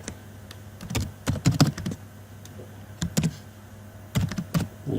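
Close, crisp typing on a computer keyboard comes in short irregular bursts of clicking keystrokes separated by brief pauses, with no speech over it.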